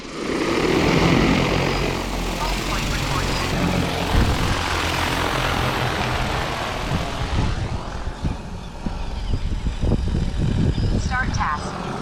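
Agricultural spraying drone lifting off and flying out to spray a field, its loud, steady rotor whine and buzz filling the scene, fading somewhat later as it moves away while faint voices and outdoor sounds come through.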